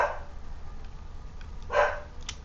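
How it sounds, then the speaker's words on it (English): Dogs bark in the background of a home, two short sharp barks a couple of seconds apart, fairly faint against quiet room noise. "Oh, I got ads and dogs barking at the same time"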